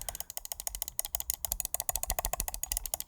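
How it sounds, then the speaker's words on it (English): An Endgame XM1 computer mouse jitter-clicked in a rapid, dense burst of sharp plastic clicks, close and loud, running continuously without any voices. "Let's do some jitter clicking."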